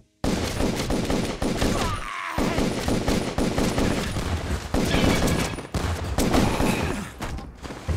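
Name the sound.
shotgun firing in a video game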